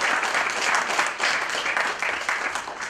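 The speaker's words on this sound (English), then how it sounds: "Please give her a big round of applause." A dense, steady wash of applause from a sizable audience, many hands clapping at once throughout.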